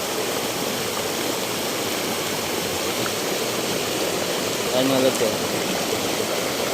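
River water flows in a steady, full rushing wash that stays constant throughout, with someone speaking briefly over it near the end.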